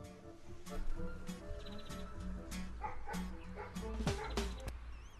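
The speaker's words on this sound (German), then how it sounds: "Nachbarhund. Ist der Hund vom Nachbarn, ja." A neighbour's dog yips and barks outdoors in a series of short, sharp calls with brief whimpers between, moderately distant, with some voices in the background.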